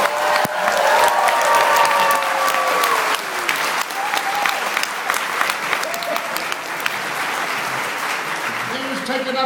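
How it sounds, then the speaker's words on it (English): A convention audience gives sustained loud applause for Ernest Borgnine, dense clapping with scattered cheers while voices talk over the crowd. "They was taking up time with all this applauding."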